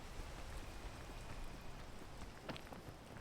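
Steady rain hisses in the video game PEAK, a dense, even wash of falling drops with a few brief taps layered on top.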